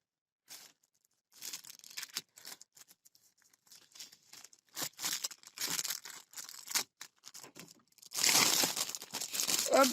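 Plastic wrapping around a Warhammer Conquest magazine is cut with scissors and torn open, with intermittent crinkling and tearing bursts building to a louder, sustained crumple near the end, close and without speech.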